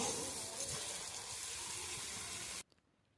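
Ginger garlic paste frying in a pan for masala chicken, a loud steady hiss of sizzling oil that cuts off abruptly near the end, leaving near silence.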